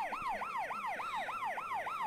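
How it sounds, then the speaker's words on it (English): Police sirens in the ArmA 2 video game wail in a fast, continuous up-and-down sweep, loud and steady throughout with no talking over them. "Somebody forgot to shut their damn sirens off, though."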